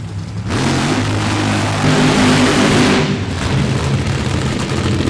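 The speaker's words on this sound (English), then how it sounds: "Supercharged, fuel injected, big block Chevy power underneath that body." A supercharged, fuel-injected big block Chevy funny car at a drag strip roars loudly and continuously, a thick raw engine blast that swells and surges over several seconds.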